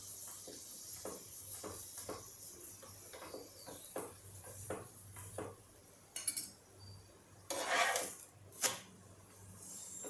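Oil-brushed paratha sizzling on a pan, with steady light metallic clinks and scrapes of a utensil against the pan in a quiet kitchen, a few louder clattering bursts near the end.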